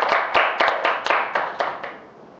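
Hand clapping at a seminar presentation: about nine separate, evenly spaced claps from a small group, crisp and fairly near, fading slightly toward the end.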